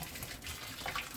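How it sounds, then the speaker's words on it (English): Boiling water poured over raw duck pieces, a brief soft splashing trickle, faint and close, with no voices. "I pour boiling water."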